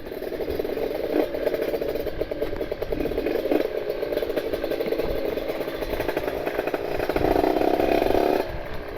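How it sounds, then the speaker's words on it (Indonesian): A motorcycle engine with an open air filter idles and putters steadily with a rough, crackly exhaust note, briefly swelling louder near the end. "crunchy ini knalpot enak banget"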